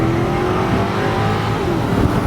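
Engine of a 2007 Cadillac XLR Passion Red Limited Edition roadster, a rear-wheel-drive Corvette-based car, accelerating hard, a loud continuous rising roar heard from inside, with no talk over it.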